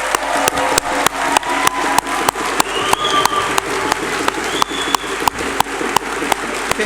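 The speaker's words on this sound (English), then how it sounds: "put your hands together and applaud them" Audience applause at a graduation ceremony as completing students stand, steady clapping with sharp broadband claps punctuating a continuous wash, fairly loud and close, with a brief faint whistle or tone rising above it.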